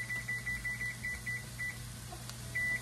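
A kitchen timer being set while food bakes in the oven: a run of about nine short, quick high beeps, a pause, then one longer beep near the end, faint over a low steady room hum.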